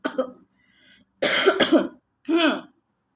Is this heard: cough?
yes